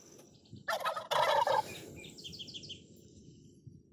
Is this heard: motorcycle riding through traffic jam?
no